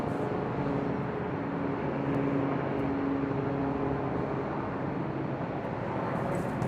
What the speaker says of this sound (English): .737 MAX 9 coming in from SFO, about to touch down at 24 right.